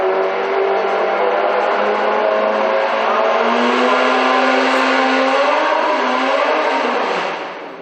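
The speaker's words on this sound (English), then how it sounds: "Someone's trying hard on the revs down below" A historic racing car engine at the Estoril Classics meeting revs loudly and steadily, the pitch climbing and holding before easing off near the end, close by and heard alone.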